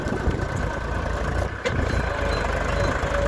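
A Powertrac Euro 50 tractor pulls a plough through soft soil, its engine a continuous loud, rumbling drone with a brief dip midway; no speech.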